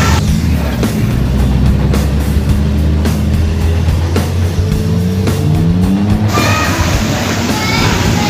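Buses, including a Skybird tour bus, pass along a road. A loud, steady engine drone rises and falls in pitch as they go by, with a voice talking over it.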